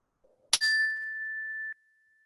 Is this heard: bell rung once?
yes